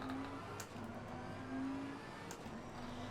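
A race car engine in Assetto Corsa Competizione, a Lamborghini, revs hard and high, with the pitch climbing and dropping through gear changes and a few sharp clicks, steady and loud with no talk.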